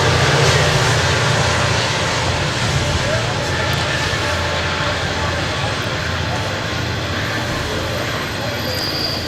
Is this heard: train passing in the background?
yes